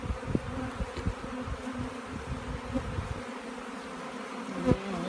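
Honeybees buzz steadily at an opened hive frame holding brood, larvae and pollen, a close, continuous insect drone with faint rises as individual bees pass near.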